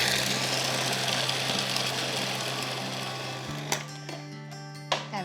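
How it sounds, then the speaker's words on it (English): A food processor whizzes a sticky mixture of dates and coconut in a steady, loud, grinding whir that drops sharply partway through, leaving a lower motor hum with a couple of knocks. "and then lid on and whiz it together again"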